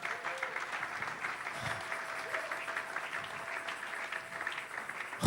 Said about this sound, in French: Acclame très fort la parole de Dieu.